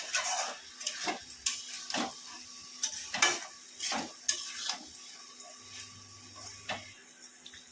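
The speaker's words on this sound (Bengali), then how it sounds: "মশলাটা কষানো হচ্ছে।" Spice masala sautéing in a pan for a prawn and Malabar spinach dish, with a ladle scraping and knocking against the metal in a rhythmic series of strokes over a faint sizzle, up close.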